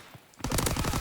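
Rapid automatic gunfire bursts out after a near-silent start in a Call of Duty gunfight, dense and sustained at a moderate distance, with no talk.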